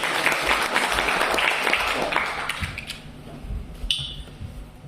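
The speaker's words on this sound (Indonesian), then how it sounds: "Tepuk tangan dulu yang bersyukur." A church retreat congregation breaks into loud, dense applause that fades away after a few seconds, leaving room noise, a few scattered claps and a faint voice.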